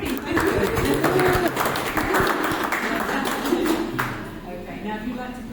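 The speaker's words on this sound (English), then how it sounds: "a round of applause for our ring bearer, Yuri." Wedding guests at a ceremony in London clap for the ring bearer, a loose scatter of applause under and between an officiant's talk, moderately close and fading toward the end.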